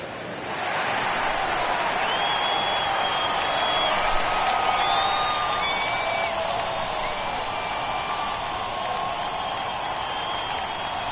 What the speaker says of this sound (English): The home fans cheering for MP